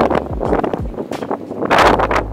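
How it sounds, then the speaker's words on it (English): Strong wind at a campsite outside Breckenridge, Texas, buffets the microphone in loud, rough gusts, with low rumbling bursts and rushing noise that swells and fades throughout. "that's because it is ridiculously windy outside"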